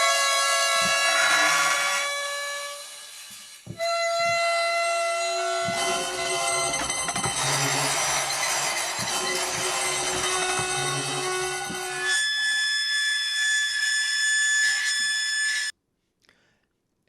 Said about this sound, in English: We have 3 different of our horror scrapes. The first one is going to be our dry scrapes.